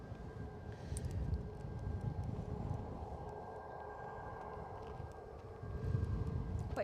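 Jet airliner engine roaring on departure from Edinburgh Airport, a steady broad rumble with a faint whine, swelling slightly near the end as it passes close and loud.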